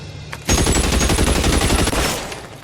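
A rapid, loud burst of automatic gunfire from men in cover in an L.A. Noire cutscene, a steady rattle of dozens of shots that starts abruptly and fades off near the end.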